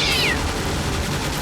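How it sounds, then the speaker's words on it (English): A single sharp, rising-then-falling cat meow at the start over a dense noisy action backdrop, loud and close, with a rumbling bed continuing afterward. "Damn that cat!"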